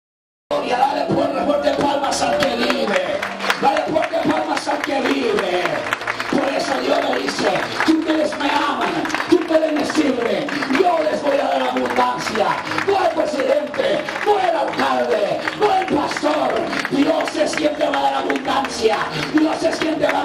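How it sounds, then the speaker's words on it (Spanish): A church congregation in Santa Filomena, Ayacucho, Peru, clapping hands loudly and steadily under mixed voices and excited speech, a dense continuous patter of claps lasting throughout. "Dale fuerte palmas al que vive"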